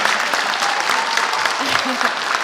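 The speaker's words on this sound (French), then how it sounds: "Merci d'applaudir chaleureusement tous les personnels qui sont venus." A roundtable audience on geoscience careers claps warmly for the staff in a steady, close burst of dense applause that continues throughout, with a voice briefly audible beneath it.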